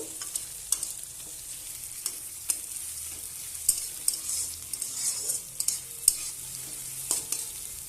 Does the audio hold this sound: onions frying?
yes